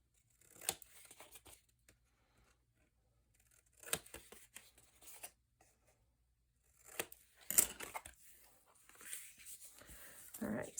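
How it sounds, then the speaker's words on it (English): Scissors cut paper along a pencil line while assembling a Graphic 45 Let it Snow tea party folio, with short crisp snipping bursts separated by pauses, close and fairly quiet. "I'm going to come in with my scissors, and I'm going to cut right along that pencil line."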